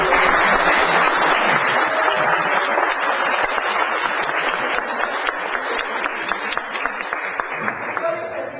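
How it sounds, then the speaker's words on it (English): An audience bursts into sustained applause, dense clapping that stays loud for several seconds before thinning slightly toward the end. "Give a big round of applause."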